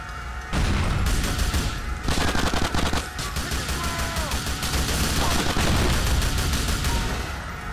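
Heavy gunfire in the video game GTA: The Ballad of Gay Tony: sustained loud bursts of automatic fire with booming shots, running almost continuously for several seconds.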